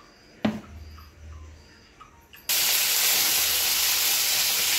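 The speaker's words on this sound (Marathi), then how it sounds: "तेलामध्ये, गरम तेलामध्ये वांगे डायरेक्ट फ्राय करून घ्यायचे आहे" Brinjal pieces drop into hot oil and burst into a loud, steady sizzling hiss after a few small clinks and taps, the frying continuing close and unbroken to the end.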